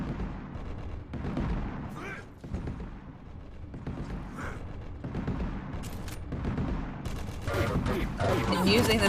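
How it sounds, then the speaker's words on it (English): Gunfire from the video game Quake during a QuakeCon 2021 community match, a dense run of repeated shots and blasts continuing under a commentator's talk throughout, with a heavier burst near the end. "using the sound of the gunfire to figure out where Effortless is"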